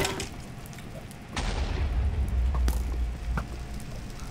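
Video game gunfire: a loud boom bursts in over steady background noise, followed by a few fainter sharp pops.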